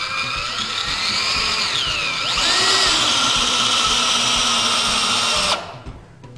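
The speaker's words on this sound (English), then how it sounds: "the weight of the drill should be sufficient to perfectly install the fastener." A power drill drives a GRK Kameleon composite deck screw into PVC deck board with a loud, steady whine that rises in pitch partway through, then cuts off abruptly as the screw seats.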